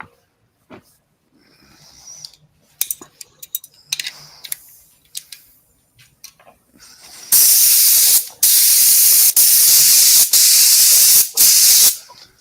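Aerosol spray can laying a coat of finish on a wooden platter, sounding as loud close hissing bursts in several long sprays after a stretch of quieter handling clicks and knocks.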